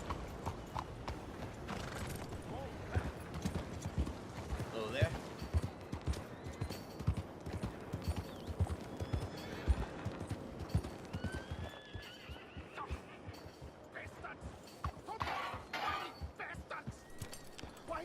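Horse hooves clip-clop steadily at a gallop in Red Dead Redemption 2, a dense fast rhythm sustained throughout, with occasional whinnies and a faint voice now and then.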